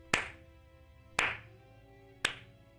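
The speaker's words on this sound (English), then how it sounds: "I'm just going to start slow clapping." Three slow, single hand claps about a second apart, each sharp and close, ringing briefly in a quiet room.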